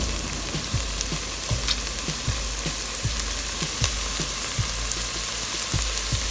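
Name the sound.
minced garlic and spices frying in pan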